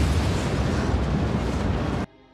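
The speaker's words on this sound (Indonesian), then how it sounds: "Tom terkejut setelah melihat kapal itu meledak" A boat explodes in an action film, a loud, dense roaring blast lasting about two seconds that cuts off abruptly into near silence.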